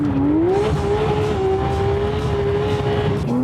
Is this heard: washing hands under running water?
no